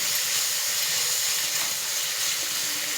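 Ginger garlic paste frying with tomatoes in a pan, giving a close, steady hiss and sizzle that runs unbroken for a few seconds with no talking.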